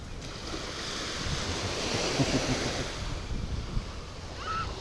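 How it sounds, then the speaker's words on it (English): Gentle ocean waves wash onto a sandy Florida Gulf Coast beach, a continuous soft surf rolling under steady wind noise, with a brief high bird-like chirp near the end. "The soft waves hitting the sand."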